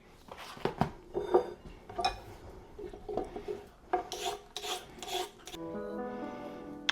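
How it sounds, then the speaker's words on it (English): Vegetables for a turkey pot pie are chopped and scraped on a board, a series of irregular knife knocks and rasping scrapes with some clatter of kitchenware, close and moderate in level with no talking. "So bear with me as I start chopping."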